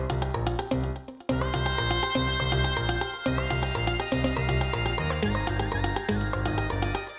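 Song sample from the Plants vs Zombies video game, built on its SF2 instruments, played at original unpitched pitch: a dense, steady loop of music with pulsing bass notes, briefly dropping out near the one- and three-second marks.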